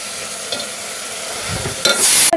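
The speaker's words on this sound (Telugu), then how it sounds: "ఇప్పుడు ఈ సాల్ట్ వేసుకున్న తర్వాత ఇదంతా మంచిగా కలుపుకోవాలి" A spoon scrapes and stirs through pulao in a hot pot after salt and chilli powder go in, with soft sizzling underneath and a louder clattering scrape near the end.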